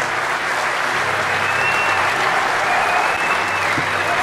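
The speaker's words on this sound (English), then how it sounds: "Let's hear a round of applause." A large conference audience at DEFCON 20 applauds steadily, a dense, even wash of clapping that holds at full strength for the whole stretch with no one speaking over it.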